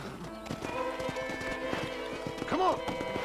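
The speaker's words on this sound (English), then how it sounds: "I picked out a fine horse for you" Horse hooves clip-clop at a steady walking rhythm in Red Dead Redemption, close and clear on a hard surface. A horse whinnies briefly near the end, and a voice speaks over the hoofbeats.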